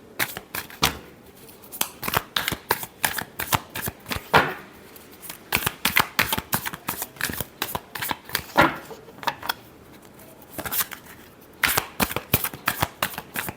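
Tarot cards are shuffled by hand in repeated crisp riffling bursts, close and clear, with short pauses between rounds.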